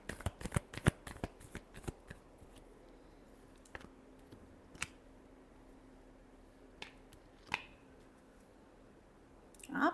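Tarot cards being shuffled at close range, a rapid riffle of crisp flicks at the start, then sparse single taps and card slaps in a quiet room, with a brief rustle at the end.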